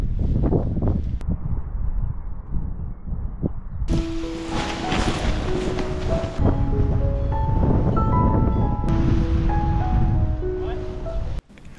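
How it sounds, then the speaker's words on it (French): Strong wind at a paragliding takeoff site at Corent in spring, roaring and buffeting the microphone throughout, with tonal beeping sounds layered over the gusts midway. "Le vent est toujours assez soutenu, donc démonstration de décollage dans du vent fort."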